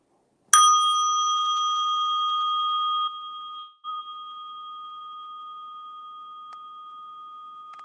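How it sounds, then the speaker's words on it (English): A Tibetan bell is struck once at a community meditation gathering, ringing with a bright, clear tone that sustains and slowly fades over several seconds in a quiet room. "place your attention lovingly on this Tibetan bell"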